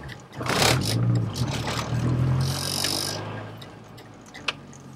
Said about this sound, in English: He has a lot of turbo noises in here than I do.